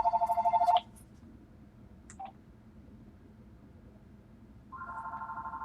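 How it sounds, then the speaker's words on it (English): A telephone rings in a short burst of repeated electronic trills, stops, then starts ringing again near the end, loud and close during a live game-development broadcast with a quiet room hum underneath. "Let me just mute that phone for a little bit."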